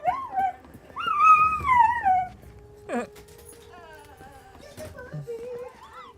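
A dog whimpers and yips in high, wavering whines at close range, several rising and falling cries spread over a few seconds, with a voice greeting it.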